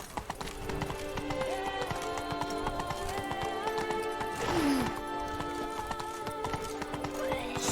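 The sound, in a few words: horse Roach galloping in The Witcher 3 video game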